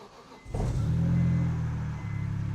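BMW E46 M3 engine cranks and starts, then settles into a loud steady idle right after the brief starter whir, with a tonal belt squeal riding over the running engine.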